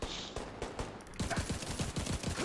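Rapid bursts of automatic gunfire from a replica weapon in the shooter game The Division 2, loud and close, with dense repeated cracks that grow heavier in the second half.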